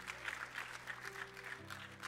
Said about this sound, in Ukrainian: Проходьте, будь ласка, ми вам аплодуємо